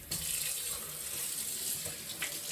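Tap water runs steadily into a sink, rinsing cleaning solution off bike parts just pulled from an ultrasonic cleaner; a continuous, close hiss of flowing water with faint clinks near the end.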